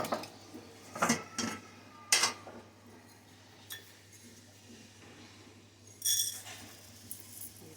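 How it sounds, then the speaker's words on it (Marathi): A metal kadhai and other pots and dishes being washed, with sharp clinks and clanks in irregular bursts, close and fairly quiet against a soft steady hum. "कढाई आपण स्वच्छ धुवून घेऊया"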